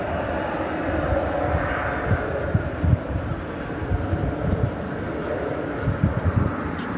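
A jet airliner on flight 1644 to Los Angeles at DFW Airport gives off a continuous broad engine roar at night. It stays fairly even and moderately loud, with a few low thumps and no speech over it.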